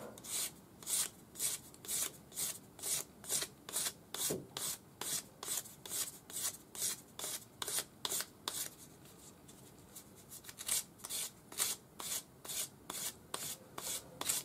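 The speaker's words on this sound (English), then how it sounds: "just use your sanding stick with 400 grade wet or dry paper." Steady back-and-forth rasping of a sanding stick with 400 grade wet or dry paper on a metal ring's solder join, regular rhythmic strokes close to the microphone, continuing throughout with a brief pause midway.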